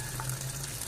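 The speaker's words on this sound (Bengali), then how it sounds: "তেলটা গরম হয়ে গেছে, এরপর ডিমটা দিয়ে দিই।" An egg frying in hot oil in a home pan gives a faint, steady low sizzle with soft crackle, brief and without talk.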